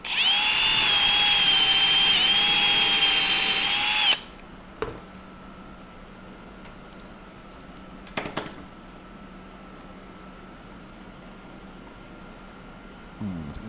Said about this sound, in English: Let's drill these out to 1/4-inch.